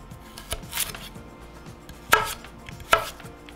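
A knife chops vegetables finely on a board for a quick bean dish, a few soft taps followed by two sharp, close strikes, with no talking.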